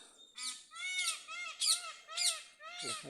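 A series of loud, harsh squawking calls from a parrot, five or six rasping notes in a row, close and clear with no talk.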